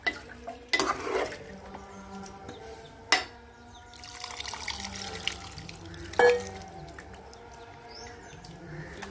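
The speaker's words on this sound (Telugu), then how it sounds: "ఇంకొన్ని పోసుకుందాం వాటర్." Water poured into a pot of chicken curry with brinjal and drumsticks, then stirred: scraping clatters and splashes with a low bubbling beneath, three sharper knocks of the spoon against the pot, close and moderately loud.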